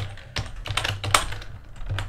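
Code typed on a computer keyboard, a quick run of close, crisp key clicks in short uneven clusters, alone without speech.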